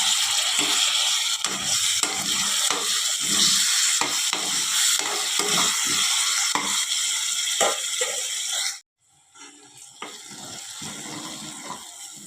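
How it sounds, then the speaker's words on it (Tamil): Tomatoes sautéing with ginger garlic paste for mutton biryani sizzle loudly and continuously, punctuated by repeated spatula scrapes and stirs, before dropping abruptly to a quieter, fainter hiss. "தக்காளி எல்லாம் நல்லா வத வதங்கிடுச்சு"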